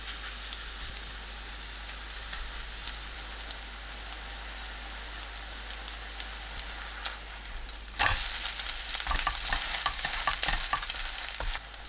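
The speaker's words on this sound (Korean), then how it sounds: "중불로 낮추고 반죽을 펼쳐 올립니다." Kale pancake batter fries in an oiled pan over medium heat, a dense, steady crackling sizzle close by that grows louder and busier with sharp pops in the last few seconds.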